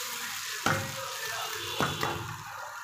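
Onion and tomato gravy for Punjabi tadka paneer sizzles steadily in a pan, a continuous close hiss broken by two sharp scraping stirs.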